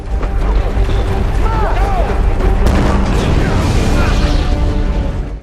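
A loud, rumbling gas-leak explosion collapses part of a mine tunnel and its entrance, roaring with crashing debris and a sustained heavy boom, chaotic and dense throughout, with voices shouting under the din.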